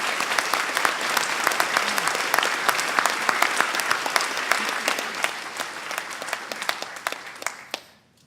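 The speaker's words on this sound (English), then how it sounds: "How about a round of applause for the ROTC?" A council meeting audience applauds a ROTC color guard with sustained, dense hand clapping in a room, steady for several seconds before thinning to scattered claps and stopping.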